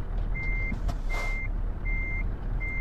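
A truck in Euro Truck Simulator 2 reverses a trailer into a parking spot, its loud reversing beeper sounding four evenly spaced tones over a steady low engine rumble, with a brief hiss partway through.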